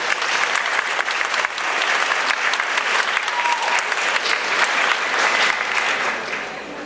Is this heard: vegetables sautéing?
no